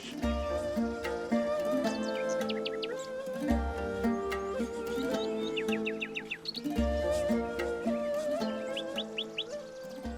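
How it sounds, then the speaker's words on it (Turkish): A nightingale sings in a scene of a film about the poet Yunus Emre, its bright, repeated trilling phrases laid over a steady background of music throughout. "Garip garip ötme bülbül."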